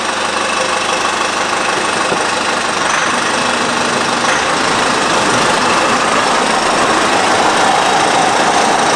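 A car rolling off slowly in drive with a suspected differential fault, giving a loud, steady droning engine and drivetrain hum with a rough, knocking texture throughout, no voices.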